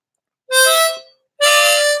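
Two sustained harmonica notes, a draw then a blow, each about two thirds of a second long and separated by a short gap, played loud and close with no voices.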